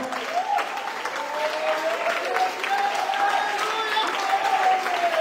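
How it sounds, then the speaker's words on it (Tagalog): A church congregation applauds in praise of God, a steady wash of clapping from the crowd, while a preacher's sustained voice and music ring over it throughout. "talagang sa palakpak para sa Diyos"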